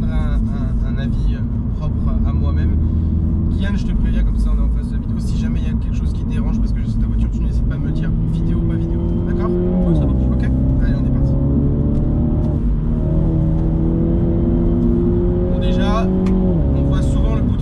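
A Mini JCW drives hard and accelerates, its engine droning loud and close, rising through the revs with gear shifts around the middle and again near the end, steady throughout with no voices over it.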